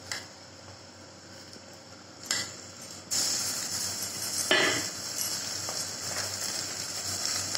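Washed mutton mince goes into a pan with clinks and scrapes of a metal utensil, several distinct knocks against the pan over a low background hiss of light sizzling.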